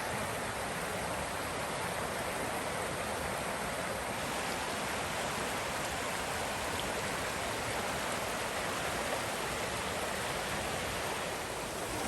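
Steady rushing of a creek on an Ozark Highlands backcountry trail, a continuous broadband wash of flowing water, close and unbroken, with no voices.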